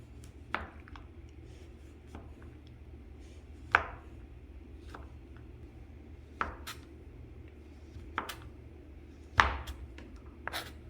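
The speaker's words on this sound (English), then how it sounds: "Cut the chocolate into small pieces." A knife chops a block of dark chocolate into small pieces on a board, making sharp, irregular thuds spaced a second or two apart over a quiet background.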